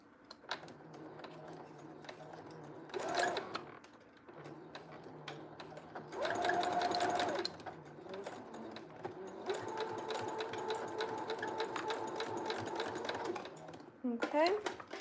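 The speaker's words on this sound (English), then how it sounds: "And now I'm going to sew" Sewing machine stitching along an elastic band, with steady mechanical whirring in bursts of varying length, close and moderately loud, pausing between runs while a person talks.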